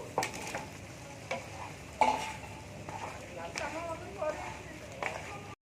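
Potatoes tipped into a spiced masala for aloo dum, frying in a pan with soft sizzling, clinks of a spatula against the pot and stirring scrapes, while a person speaks over the cooking.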